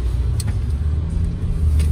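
A car on a test drive hums along with a steady low road rumble and engine drone heard from inside the cabin, continuous and fairly loud.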